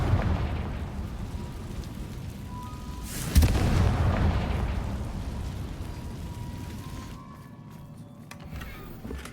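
A Confringo spell bursts in a Harry Potter video game with one heavy, booming explosion that rumbles loudly and then slowly fades into a rain-like wash of ambient noise.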